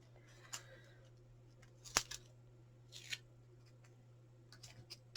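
Sticky scissors snipping card for a folded gift, a few short, sparse crisp snips spread across a quiet room.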